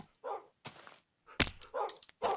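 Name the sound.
dogs barking in the video game Minecraft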